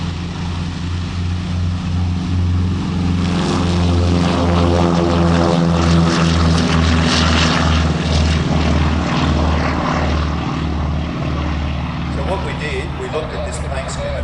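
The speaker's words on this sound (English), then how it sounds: "We'll just let you listen to this beautiful aircraft on its takeoff run." A Lockheed Hudson WWII warbird propeller aircraft on its takeoff run at an Australian airshow, a loud, close, steady radial-engine drone that builds in intensity as it rolls, with a voice speaking over it.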